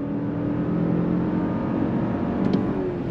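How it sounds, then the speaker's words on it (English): A 2022 Lexus LX 600 F Sport under throttle as its 10-speed automatic downshifts, heard from inside as a steady, full engine drone building under load, with no talking. "We are now starting our drive in the 2022 Lexus LX600 F-Sport on throttle. 10-speed drops down and we are off and running."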